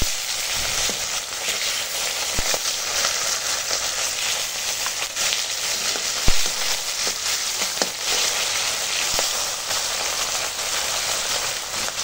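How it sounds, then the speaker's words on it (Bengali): Bata fish frying in oil in a village kitchen, a continuous dense sizzle and spatter with occasional sharper pops, steady and close for the whole stretch. "বাকি মাছগুলো ভেজে নেব।"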